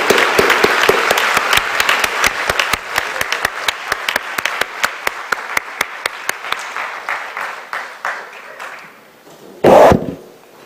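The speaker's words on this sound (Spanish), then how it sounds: "Solo les pido que me acompañen en un aplauso de reconocimiento a nuestros panelistas." Audience applause for panelists at the close of a panel on political corruption, loud sharp clapping that thins into scattered claps and fades, ending with a brief burst of noise.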